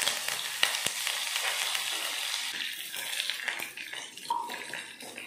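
Mustard seeds, chana and urad dal, dried red chillies and curry leaves frying in hot oil for a tempering, a steady crackling sizzle with a few sharp pops and stirring scrapes.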